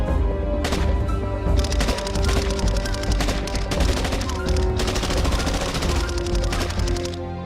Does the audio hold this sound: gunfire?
yes